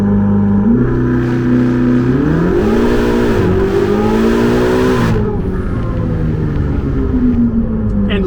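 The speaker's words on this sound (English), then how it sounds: "Smash the brake, smash the gas, and hear those turbos build up." A Ferrari 488 GTB launches hard from a standstill, its twin-turbo engine climbing in pitch through a sustained roar and briefly dipping at a gear change before pulling again, loud and close inside the cabin, with no one talking.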